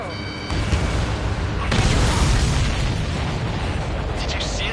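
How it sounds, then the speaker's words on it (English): A big explosion in the Ace Combat 7 aerial combat game: a sudden loud, broadband blast that swells into a long rumbling roar, layered over ongoing game sounds. "Did you see that explosion?"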